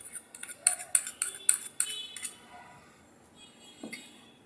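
A metal spoon mixes ginger garlic paste in a bowl, sharp quick clinks in a rapid rhythm at first, then softer, sparser scrapes and a final tap.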